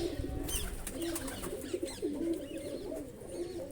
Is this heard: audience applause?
no